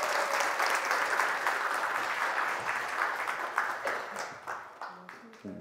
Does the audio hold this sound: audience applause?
yes